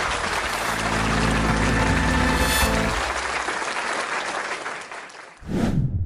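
Loud, dense applause from a crowd fills the space, steady and sustained, dipping briefly near the end before a short final burst of clapping.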